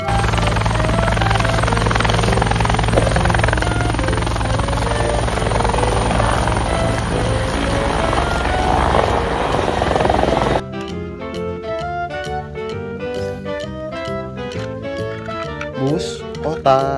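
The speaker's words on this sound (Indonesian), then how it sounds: "Helikopter berwarna" A yellow toy helicopter gives a loud, steady whirring drone for about ten seconds, then cuts off into a quieter stretch of clicky, rhythmic toy music.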